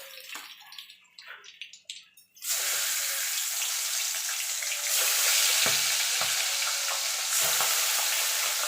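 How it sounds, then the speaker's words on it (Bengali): Pabda fish fry in hot oil in a Bengali home kitchen, a loud, steady crackling sizzle that swells after a short stretch of quieter clinks and handling sounds and carries on without talk. "এইভাবে আমি বাকি মাছগুলো ভেজে নেব।"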